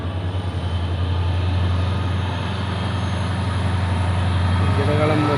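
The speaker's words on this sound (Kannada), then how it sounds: "ಗಿಡಗಳ ಮಧ್ಯ ಬರ್ತಾ ಇದೆ ನಮ್ಮ ಟ್ರೈನು" A train approaches through paddy fields, its low steady rumble building and growing louder over several seconds, heard from outdoors with wind noise.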